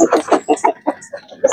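Asil gamecock stags clucking and calling at close range in a backyard rooster pen, a quick series of short, loud bursts with brief gaps, no talk over them.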